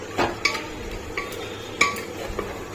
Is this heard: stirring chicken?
yes